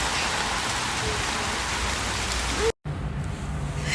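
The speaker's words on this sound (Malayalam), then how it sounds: "heavy rain" Heavy rain pours down in a dense, continuous hiss, loud and steady, with a brief cut near the end before the downpour carries on.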